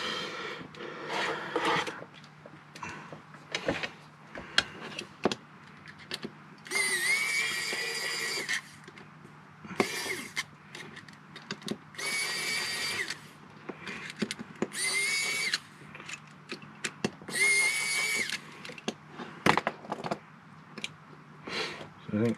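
Screws backed out of the sides of a Navpad keyboard case with a screwdriver, a series of short whirring drives and scraping clicks, close but fairly quiet, with occasional pauses.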